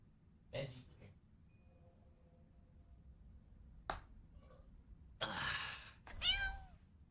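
A house cat meows at a gamer's desk during Overwatch play, a couple of short rising-falling calls near the mic late in the stretch, after scattered soft thumps and quiet room noise.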